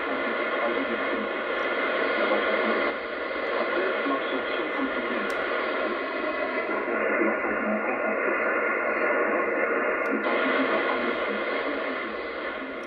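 Shortwave broadcast of Adventist World Radio French relayed from Austria on 17570 kHz, received on a Yaesu radio: a steady, hissy voice-band signal with gentle fading and band-limited tone, continuous throughout.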